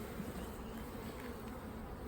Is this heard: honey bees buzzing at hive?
yes